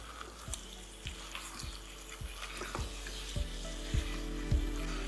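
Vegetables with a pinch of turmeric sizzle in a pan while being stirred for a chicken stew, a steady frying hiss with regular scraping, knocking strokes of the spoon against the pan, close and moderately loud.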